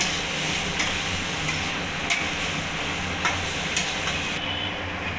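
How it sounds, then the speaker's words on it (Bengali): Spices being stirred in a pot for chicken soup, with ground black pepper, cumin and coriander just added; a steady scraping and sizzling churn continues close up over a low rumble, with faint clinks along the way. "এবার ভালো করে মশলাগুলোকে মিক্স করে নেবো"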